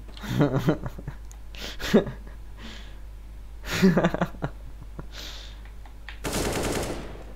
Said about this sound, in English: revealed his position by shooting his gun